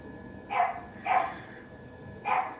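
A dog barks at a street-level tram stop in Australia, three separate barks spaced unevenly at moderate distance over a low background hum.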